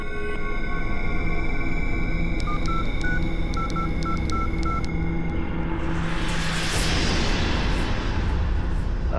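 A series of telephone keypad tones beeps out in quick, uneven succession over a low steady rumble, followed by a rising hiss.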